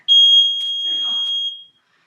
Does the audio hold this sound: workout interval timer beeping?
yes